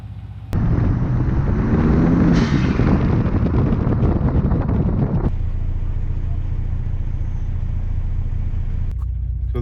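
A Ford Raptor pickup with a fresh Cobb tune accelerates hard, a loud, steady engine roar with wind rumble that climbs in pitch, then eases to a lower drone before cutting off near the end.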